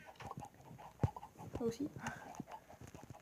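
Chickens clucking in the Minecraft video game, short scattered clucks and thumps under steady French-speaking narration.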